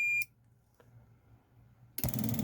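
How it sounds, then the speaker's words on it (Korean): Short electronic buzzer tone from the relay of an automatic ignition device when it is powered up, a single brief beep at the start, followed by quiet, a small click, then a burst of broadband noise. "릴레이를 달게 되면 전원을 켰을 때 부저 소리가 나요"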